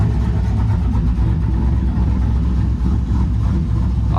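A loud, rumbling cammed 5.3 V8 truck engine lopes and revs up close, its choppy, uneven idle pulsing throughout.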